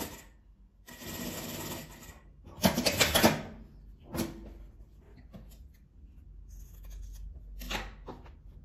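A sewing machine stitches fabric in several short bursts of mechanical whirring, separated by brief pauses and small handling clicks, close and fairly quiet.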